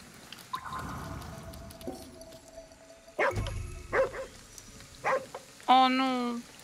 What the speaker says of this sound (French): Là, il y a un chien.